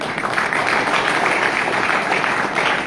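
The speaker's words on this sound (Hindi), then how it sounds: "इसके लिए तो एक बार जोरदार ताली बजा दो" An audience claps and applauds loudly at a spoken event, a dense, continuous patter of many hands holding steady throughout with no pause.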